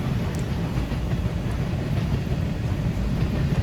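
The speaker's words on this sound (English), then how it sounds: "I like the train sounds, just the classic train railroading sounds." A freight train with hopper cars rolls past at Daggett on a sunny day, a continuous loud rumble of wheels and rail noise with faint clacks throughout.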